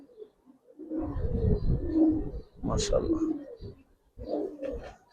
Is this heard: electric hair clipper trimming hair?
no